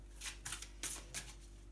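A tarot card is drawn from the deck and turned over, several soft, close papery slides and flicks in quick succession, quiet over a low steady hum, with no talking.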